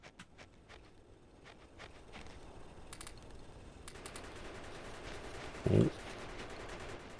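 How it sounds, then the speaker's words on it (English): Rapid bursts of gun turret fire in Factorio, sharp repeated shots rattling over a steady game background, with one louder thump near the end and a brief spoken exclamation. "Wow, the gun turret worked."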